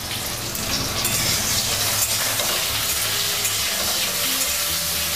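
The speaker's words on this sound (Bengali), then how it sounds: "এর মধ্যে এবার আলুগুলো দিয়ে ভেজে নেব।" Potatoes fry with a little salt in a pan for a cabbage dhoka curry, giving a loud, steady sizzle with faint stirring scrapes, no talking.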